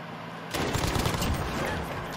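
A shotgun in the Modern Warfare video game fires, a sudden loud blast that breaks a quiet lead-in and leaves a dense, rumbling burst of noise in a capture-the-flag match.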